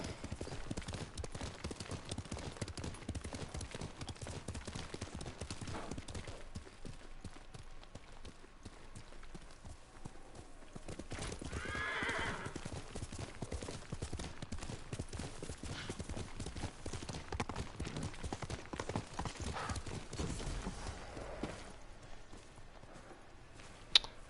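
The horse Kage gallops in the Ghost of Tsushima video game, hooves clip-clopping in a steady rapid rhythm for over twenty seconds, fairly quiet, with brief game sounds mixed in.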